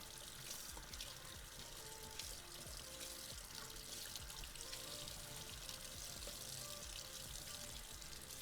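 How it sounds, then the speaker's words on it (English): Tap water runs steadily into a kitchen sink while butter is rinsed off a knife, a continuous close splashing stream with small clinks, no talking. "Just rinsing the butter off of the knife."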